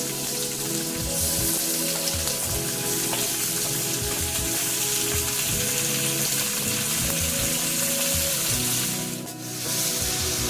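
Duck meat and browned onions fry in a pan for an Assamese duck curry, a steady loud sizzle running throughout with bubbling crackle and no talking.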